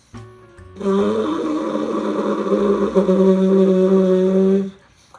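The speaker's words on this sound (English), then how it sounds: "buzz your lips and make a bzz sound with them" A steady buzzing lip raspberry held for about four seconds, close and fairly loud, with a reedy, slightly wavering pitch before stopping abruptly.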